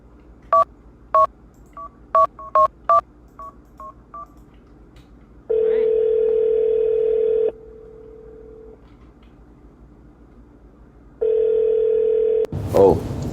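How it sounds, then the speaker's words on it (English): Telephone keypad tones beep one by one in a quick dialing sequence in the video game Duskwood, then a steady electronic dial tone sounds twice with a pause between, ending in a short burst of noise. "Alright, who are we calling now?"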